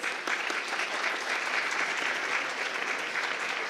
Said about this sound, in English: So a round of applause for the team of finance for organizing the conference